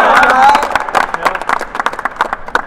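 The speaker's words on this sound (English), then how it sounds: "Let's clap it up with some major performances today." Crowd clapping and cheering in an indoor venue at a high school boys' track and field championship meet, with dense rhythmic claps and voices blending into a steady, lively wash.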